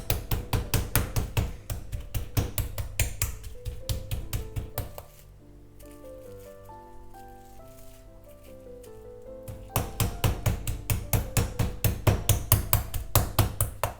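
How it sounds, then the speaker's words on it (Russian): Rapid, heavy thuds of a mallet pounding meat in a steady rhythm, pausing briefly while soft music plays, then resuming. "отобью их молотком с 2 сторон"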